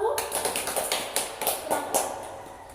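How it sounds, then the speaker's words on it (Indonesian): A classroom group gets applause after finishing a presentation during a teaching-skills session: a short burst of scattered, uneven hand claps, fairly close and moderately loud, with no one speaking. "berikan aplaus untuk kelompok 1"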